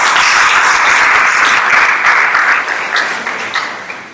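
A roomful of guests at an Urdu book launch breaks into loud, dense applause that holds strong and then slowly tapers off, with no voices over it.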